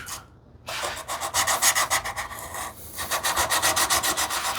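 A plane iron from a Stanley 78 scrub plane conversion is rubbed back and forth on a cheap diamond sharpening plate, giving steady, rhythmic gritty strokes after a brief pause, close and fairly loud with no talk.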